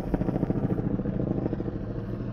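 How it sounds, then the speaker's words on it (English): A helicopter passing overhead, its rapid rotor chop beating loud and close in a fast, even rhythm before easing off slightly toward the end. "There's a helicopter."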